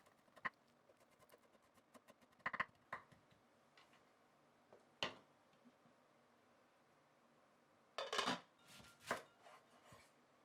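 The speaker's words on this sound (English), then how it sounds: "Finally chop your bunch of dill, then add it to the soup." A bunch of dill chopped with a knife on a board, scattered sharp taps and then a quick burst of rapid chops near the end, close and crisp against a quiet background.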